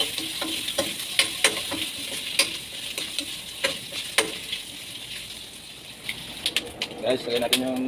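Garlic, onion and other vegetables for a Filipino Ilocano pinakbet with moringa pods frying in a little hot oil in a pan, a steady sizzle with scattered sharp crackles and stirring clatter close by, bird calls faint in the background.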